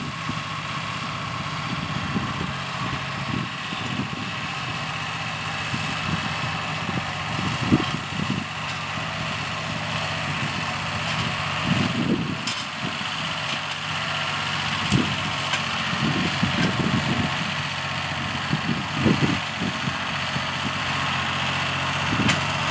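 A Mitsubishi Satoh Buck 470D tractor, set up with a landscaping rake, idles close by outdoors. Its engine gives a steady, even rumble that continues without a break for over twenty seconds.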